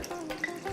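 Water splashes briefly into a mixer jar holding mango seed pieces, a short close gush under a second long with no voice over it.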